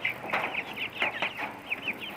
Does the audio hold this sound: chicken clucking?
yes